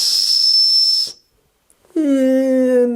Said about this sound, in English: Let me blow the whistle.